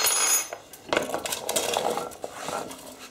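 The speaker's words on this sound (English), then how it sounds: "Just pop them in the pan, and again, just going to put the whole lot of this in." Rinsed lentils tip from a sieve into a pan for a lentil, chorizo and potato stew, a quick rattling patter and clatter of grains and metal over about three seconds.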